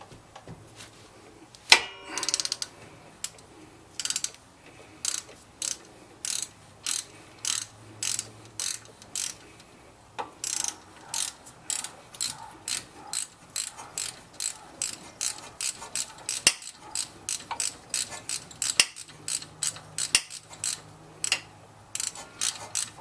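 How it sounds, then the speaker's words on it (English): Rapid ratchet clicking in repeated bursts as Torx bolts are loosened on the rear brake of a 2004 Volvo XC90, crisp and close, with short pauses between strokes and no talking. "the Torx heads that you want to remove."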